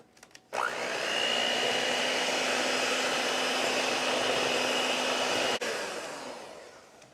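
An electric mixer whirs steadily through date nut pudding batter, a loud, even buzzing hum that starts abruptly, runs for about five seconds, then cuts off, with no talking.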